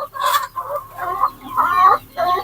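Andijan black chickens cluck close by in a run of five or six loud, separate calls that come in quick bursts with short gaps between them. No voices are heard over them.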